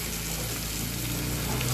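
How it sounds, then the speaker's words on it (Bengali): Egg sizzles as it is stir-fried with spices in a pan, a constant, fairly quiet crackling hiss that carries on steadily. "এবার ভালো করে নাড়াচাড়া করে ভালো করে আবার একটু কষিয়ে নিতে হবে"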